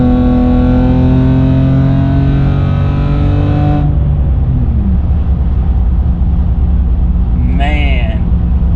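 A BMW 325xi sedan accelerates hard, its engine note climbing steadily then dropping sharply at a quick gear shift and building again, loud and close from inside the car, with a brief voice near the end.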